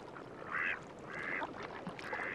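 Mallard ducks quack in a marsh, three short raspy bursts spaced about half a second apart, moderately faint over a soft outdoor background.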